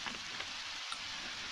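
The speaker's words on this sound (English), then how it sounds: "Well, thank God we did. It's raining." In the game Undertale, rain falls as a soft, steady hiss with a few faint droplet ticks, low in level and without voices.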